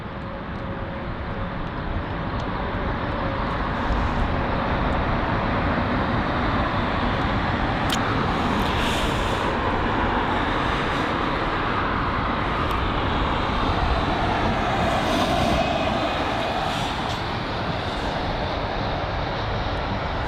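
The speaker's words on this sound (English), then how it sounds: "we've got the first United 767 in a while. So this here is the arrival." A United Airlines Boeing 767 arrives at London Heathrow, a steady, loud broadband jet roar holding for about twenty seconds with a gently shifting whine, no voices over it.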